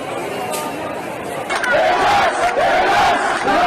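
A street protest crowd in Athens against mandatory vaccinations, with loud massed chatter and shouting that swells into raised chanting cries midway.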